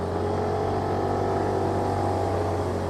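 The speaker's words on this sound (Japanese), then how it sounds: "エンジンの音はこれぐらいなのでやはり静かですね。" A Yamaha Axis Z scooter engine runs at a steady, fairly quiet drone while riding, with a constant low hum and road noise throughout and no talk.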